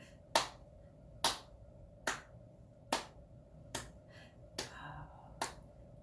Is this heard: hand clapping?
yes